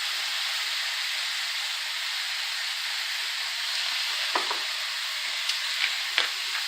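Ground beef sizzles loudly in a hot pan, a steady close frying hiss with a few scraping strikes from a utensil breaking up the meat.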